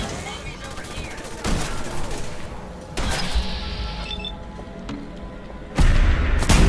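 Gunfire from the video game Fallout 4 Far Harbor: loud sharp shots and bursts crack out at irregular intervals over a dense game soundscape, the heaviest blasts landing near the end.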